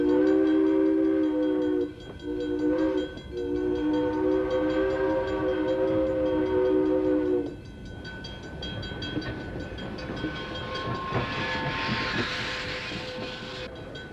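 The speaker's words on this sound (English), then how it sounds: "The Bluebell, the 11 o'clock train, is now headed for Lemon Place Junction." A steam train's whistle on the Strasburg Rail Road in 1987 sounds in long steady blasts, broken by brief pauses, then gives way to rumbling rolling noise and clatter of the moving train.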